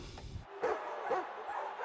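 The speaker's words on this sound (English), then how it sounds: "I wasn't expecting the growling dog." A dog makes short growling and yipping sounds, two or three brief bursts close by, with no talking.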